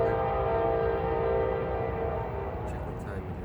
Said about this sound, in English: We're gonna let this train pass real quick.